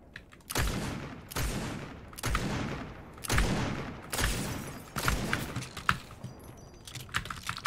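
Pistol gunfire in Fortnite, a steady series of about ten sharp shots spaced roughly every 0.7 seconds, heard fairly close with little else around.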